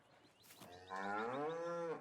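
A cow in the farming game Farming Simulator 19 gives one long, drawn-out moo that swells and holds steady, clear and moderately close against a quiet background.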